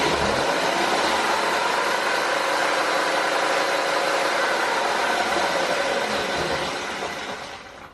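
Electric hub motor of a Sur Ron Light Bee dirt bike spinning with the rear wheel lifted off the ground during motor calibration, a steady loud broadband whir that holds for about seven seconds before fading slightly.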